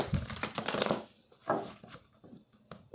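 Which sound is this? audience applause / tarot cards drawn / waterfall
tarot cards drawn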